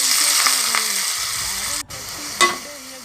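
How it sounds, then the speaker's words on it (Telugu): Fenugreek seeds frying in hot oil at the start of a fish curry, a steady bright sizzle with stirring scrapes and a brief clatter near the end, no talk. "కొంచెం ఆయిల్ వేసుకోవాలండి, మెంతులు వేసుకోవాలి"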